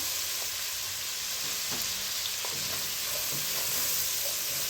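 Onions sautéing with spices in a pan, a steady broadband sizzle with faint stirring ticks and scrapes running throughout, close and even, with no voices.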